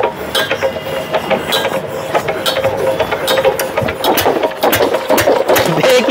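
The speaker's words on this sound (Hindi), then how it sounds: "फर्स्ट स्टार्ट हो गया, एकदम बेहतरीन पावरफुल, एकदम पावरफुल इंजन है" A Field Marshal diesel engine runs just after its first start, giving a close, loud and steady rhythmic chugging with sharp mechanical knocks.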